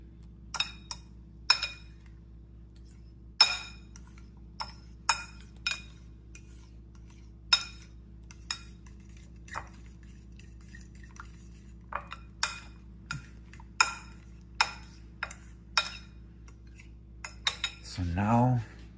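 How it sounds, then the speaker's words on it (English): A spoon mixes banana oat mug cake batter in a mug with a series of sharp, close clinks against the sides, irregular taps spaced through the stretch and a low steady hum underneath. "I gotta mix them well so it doesn't come with clumps"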